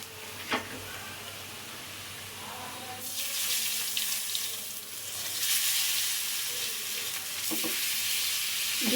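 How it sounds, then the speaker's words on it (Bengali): Eggs fry in a hot pan with a steady hiss and sizzle that swells louder midway, broken by a few sharp clinks of a utensil. "ডিমগুলা ভেজে নিচ্ছি"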